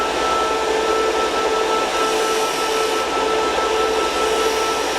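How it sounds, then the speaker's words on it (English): A jewelry polishing motor spins a rouge mop against a silver earring piece, producing a steady, loud whirring drone with a faint constant whine and no pauses or voices throughout. "The polisher motor will do a nice job of rounding off the corners."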